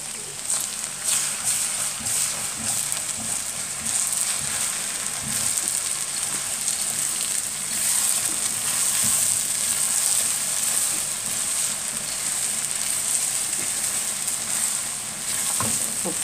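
Sausage sautéing in ghee or oil in a pan sizzles loudly and continuously up close, a dense, even crackle with occasional light scrapes of stirring underneath.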